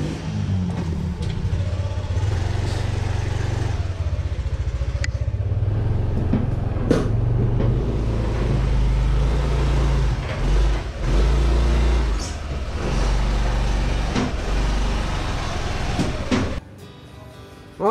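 A Yamaha All New NMAX 155 2020 scooter runs on a dyno, its engine droning and revving with a low, steady mechanical hum and rising and falling throttle, close and loud, before cutting off near the end.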